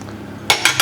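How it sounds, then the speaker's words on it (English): Roasted chilies tipped into a pot of green tomato soup with sun-dried tomatoes, giving three sharp metallic clinks of a utensil against the pot, close and loud, after a quiet stretch. "now we're going to add our roasted chilies"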